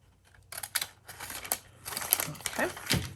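Scissors cutting through wax paper glassine bags, a series of crisp crinkling snips and rustles close by, with a voice speaking over part of it.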